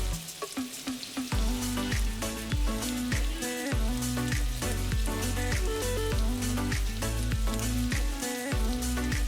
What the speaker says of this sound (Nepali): तातिएको कराईमा तेल हाली त्यसमा अघि चप गरेर राखेको प्याज, लसुन र हरियो खुर्सानी हाली हल्का रातो नहुन्जेलसम्म फ्राई गर्नुहोस्